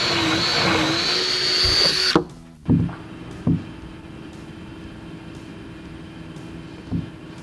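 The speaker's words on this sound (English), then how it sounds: "we're going to have to drill out the bed draining holes a little bit" A power drill whines steadily at high speed for a couple of seconds boring drain holes in a composite Toyota truck bed, then stops, followed by a few short bursts of drilling nearby.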